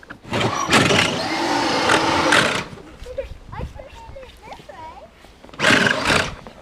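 A Power Wheels Jeep upgraded with an 18V Ryobi battery spins its wheels in snow in two loud, whirring bursts, with people talking in the quieter stretch between them.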